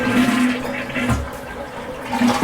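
Water runs steadily from a tap or shower while hair is rinsed, a continuous close splashing wash with no talking.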